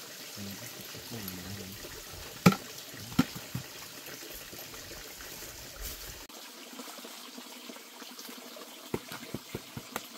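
Water trickles and pours quietly into a bamboo tube packed with wild boar meat and bahukok leaves, a faint, continuous liquid sound broken by a few sharp knocks and clicks close by.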